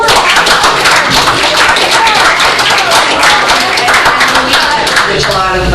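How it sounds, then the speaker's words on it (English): A round of applause at a Pequannock Township meeting: dense, sustained clapping from a crowd fills the room loudly and steadily, with a few voices mixed into the noise. "Can we do a round of applause for the parents"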